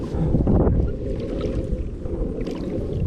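Wind gusting over open water on the saltwater flats, heard from a small fishing boat ahead of a tropical storm; a steady, fairly loud low rumble of wind buffeting the microphone, with a stronger gust early on and no voices.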